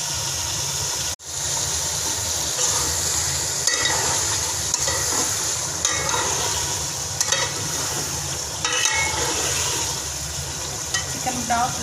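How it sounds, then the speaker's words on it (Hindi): Chicken pieces with salt are stirred in a pot for pulao, a continuous sizzle broken by repeated scraping stir strokes, after a brief silent cut near the start. "साथ हम नमक शामिल करेंगे, चिकन में नमक मिक्स हो जाए।"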